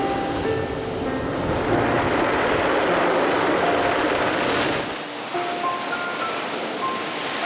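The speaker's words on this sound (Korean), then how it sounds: "몽돌 사이를 비집고 드나드는 파도 소리에 가만히 귀 기울여 봅니다." Waves washing in and out over round black pebbles on Jujeon beach, a steady broadband rush of surf with a brief dip before continuing, faint tones above.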